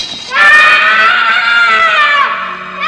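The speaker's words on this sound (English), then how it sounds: "he's screaming now." A man screams in a horror scene from the 1976 film The Omen, a loud, sustained, strained cry that holds steady for a few seconds before tapering off, with no talking over it.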